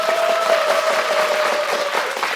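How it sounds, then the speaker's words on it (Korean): Dense, steady applause from a studio audience at a televised Korean policy talk show, filling the whole stretch at an even level with no talk over it and a faint sustained tone running beneath. "한번 여러분 큰 박수 좀 부탁드리겠습니다"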